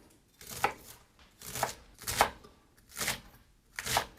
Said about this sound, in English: now we're just gonna work on slicing the stems